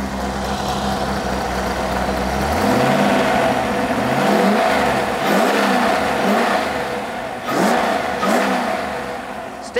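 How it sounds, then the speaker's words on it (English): A Rover V8 engine running on a test bed rumbles loudly nearby, revving up and down in repeated bursts with a rough, throaty roar between the throttle blips. "One engine running on the test bed then."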